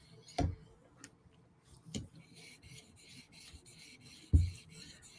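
A titanium knife blade in M4 steel rasps softly across a sharpening stone to remove scratches, quiet rubbing strokes broken by a few sharp taps.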